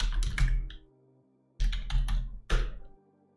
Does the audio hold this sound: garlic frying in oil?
no